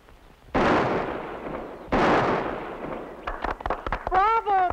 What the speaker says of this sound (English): Bravo! Fine shooting, Kenny.